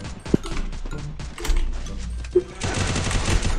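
Gunfire from a shooting video game: a sharp shot early, bursts of mechanical clatter, then a dense rapid volley of automatic fire near the end, fairly loud and close.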